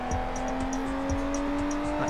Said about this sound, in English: That car is right up our ass. I can hear him.